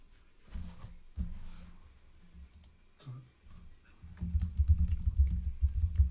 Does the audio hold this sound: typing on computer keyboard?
yes